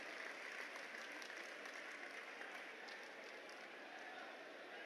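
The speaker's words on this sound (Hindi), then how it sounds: "जोरदार तालियां बजा के अभिवादन करना है।" A large crowd at a political rally in Dwarka, West Delhi, applauding and cheering, heard as a steady, distant wash of clapping and voices filling the open ground.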